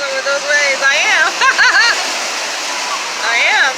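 Ocean waves wash onto a beach in a steady, loud, broadband rush of water that runs through the whole stretch while voices talk over it.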